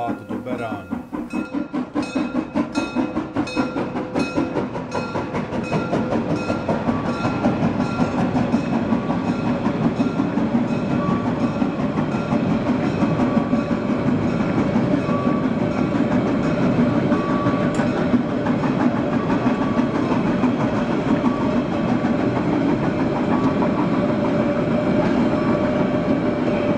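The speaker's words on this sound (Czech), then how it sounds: "Parního vlaku ulicem města Bad Doberan." A narrow-gauge steam train rumbles steadily past at close range through town streets in Bad Doberan, Germany, with rhythmic clattering wheels and sustained mechanical hum, a long unbroken passage that stays loud throughout.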